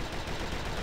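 Gunfire in the Star Wars Republic Commando video game comes as a dense, continuous burst of rapid shots, loud and unbroken for under a second.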